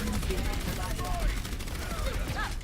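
Rapid gunfire hammers at Reinhardt's energy shield in an Overwatch match, a dense continuous burst of shots layered with game effects and brief squad voice chatter underneath.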